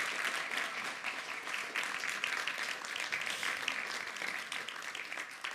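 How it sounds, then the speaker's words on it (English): An audience at a public talks event gives the speakers a sustained round of applause, even and continuous clapping that holds at moderate loudness throughout. "Will you join me in giving a big round of applause to all three of our speakers today at the Hague Talks?"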